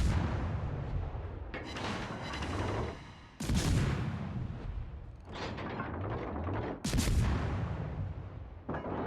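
Naval gunfire from a destroyer-versus-cruiser warship video game: repeated loud booming salvos, with several broadband blasts about two to four seconds apart, each trailing off into rumbling echo.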